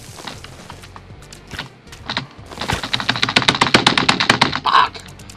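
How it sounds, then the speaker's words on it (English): Rapid computer keyboard keys clacking close up while playing Super Meat Boy, starting as sparse taps and building into a dense, fast burst of clicks with a few louder strikes near the end. "You can hear me click the keyboard"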